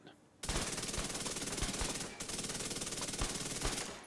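Rapid hip-fired automatic gunfire in The Division 2, a loud continuous stream of shots at a static target five meters away, with one brief break in the burst.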